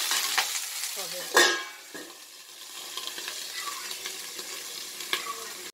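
Leaves frying dry in a pan with no water, a close crackling sizzle punctuated by scraping stirs and a sharp clatter early on, with one brief spoken word near the start.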